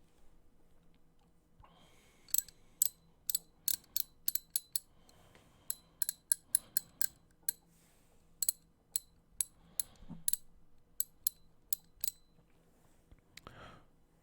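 Screws being unscrewed one after another, a long series of crisp, close metallic clicks and ratchet ticks in a quiet room, with faint breathing between them.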